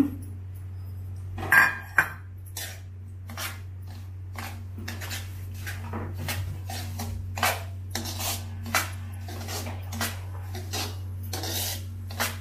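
Semolina being stirred in ghee in a pan for traditional sweet rave unde, with repeated scraping and rubbing strokes and small metal clinks against the pan at a steady pace, close and moderately quiet over a low hum.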